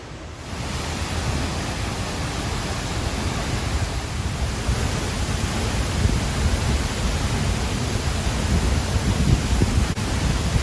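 A waterfall near La Fortuna, Costa Rica, pours into a lagoon, making a constant broadband roar that holds steady and dense throughout with no voices.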